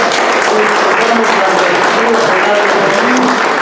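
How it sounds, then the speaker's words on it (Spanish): Steady, dense applause from a crowd fills the whole stretch, loud and continuous without pause. "un aplauso por su presencia"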